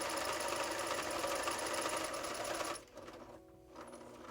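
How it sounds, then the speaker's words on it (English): A sewing machine quilting a goose coat runs in a loud, steady, rapid whir for nearly three seconds, then stops abruptly, leaving a faint hum and brief mechanical movement. "And then we just kind of keep pivoting around and doing all of our quilting."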